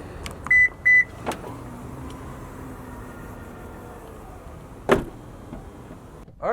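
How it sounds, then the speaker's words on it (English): A Subaru Forester Wilderness preparing to set off from inside the cabin, with two short electronic chimes, a click, a quiet steady engine hum, a sharp thump midway and another bump at the end. "let's get going here and drive the Forester Wilderness and see what this thing is like on the road"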